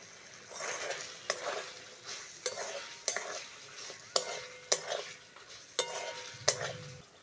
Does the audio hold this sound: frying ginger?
yes